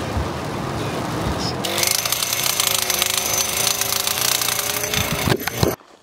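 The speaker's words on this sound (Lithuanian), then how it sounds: "Norėjau pafilmuoti, kaip kuliukus kalam, taip lengvai kalės kuliukų nesu gyvenime" A Honda-engined post driver pounding fence posts into the ground on a farm: a rough idling engine swells into rapid, loud mechanical hammering that runs steadily for several seconds before stopping abruptly.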